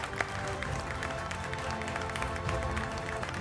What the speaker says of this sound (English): Please, let's have a round of applause for Justice Ritu Rajawasthi ji.